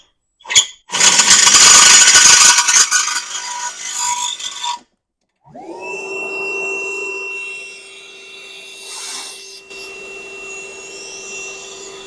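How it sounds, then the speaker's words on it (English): A short bump and loud grinding scrape, then a brief pause before a vacuum cleaner motor whines up and runs steadily at moderate volume while drilling an engine's upper oil pan. "Do you want me to hold the vacuum out the whole time?"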